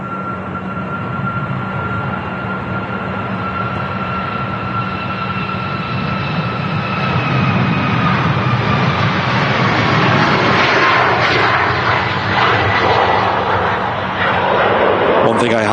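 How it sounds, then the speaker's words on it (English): Jet airliner taking off at Manchester Airport, a loud, sustained engine roar that swells gradually and holds steady throughout, heard from a distance with a steady whine above. "how smooth the takeoffs have been today"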